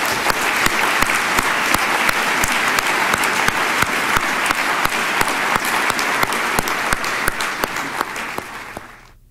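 An audience at an evening talk on environment, health and democracy gives a loud, sustained round of applause, with sharp individual claps standing out near the microphone before it fades at the end.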